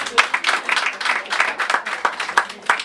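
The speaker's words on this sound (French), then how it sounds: "On peut l'applaudir, j'ai pas de jingle." Applause from an indoor audience at a community event, a steady patter of many hands clapping for nearly three seconds with no voices over it.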